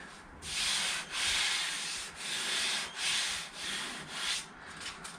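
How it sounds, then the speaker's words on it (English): A curved car body panel is hand-sanded with a roll of sandpaper bent to its shape, giving about six rhythmic, close, raspy back-and-forth strokes with no talking. "I'm using a roll of sandpaper and just bending it to the shape I need"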